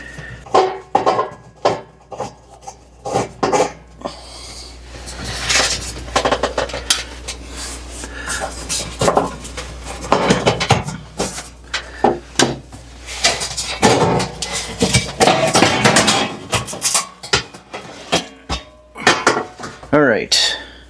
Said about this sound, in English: So I need to take that pan out so that I can see the element